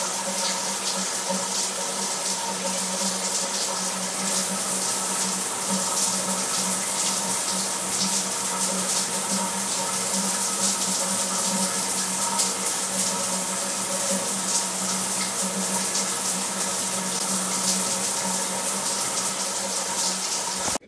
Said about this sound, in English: now I'm gonna shower.